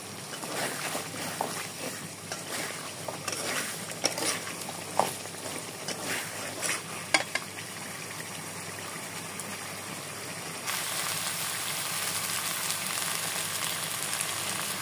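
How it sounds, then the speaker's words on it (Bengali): Green jackfruit frying in a bubbling spice paste for a vegetarian echor dish makes a continuous, close sizzle broken by clattering stirring strokes, and the frying grows louder and steadier in the last few seconds. "এরপর মশলাটা খুব ভালো মতো ফুটে আসলে এর মধ্যে দিয়ে দিতে হবে এঁচড়"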